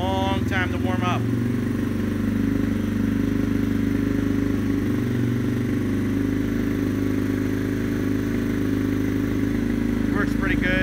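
A Yamaha TTR230 dirt bike idles on choke while warming up in cold weather on stock jets, a steady close engine drone running throughout with brief rattling bursts near the start and end.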